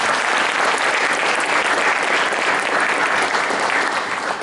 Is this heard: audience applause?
yes